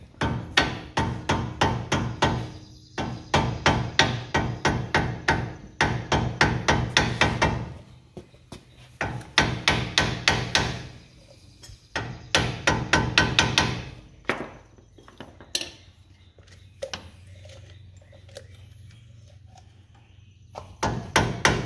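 Hammer taps on a slotted washer of a 1997 Toyota Tacoma, in quick rhythmic bursts of sharp metallic strikes separated by short pauses, close and loud, with no talk.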